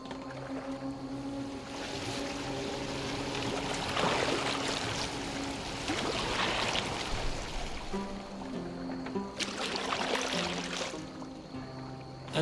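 A boat moves across water in the Viking-era game Assassin's Creed Valhalla, with steady lapping and sloshing, periodic oar-like surges of splashing, and low droning tones underneath, moderately loud and continuous.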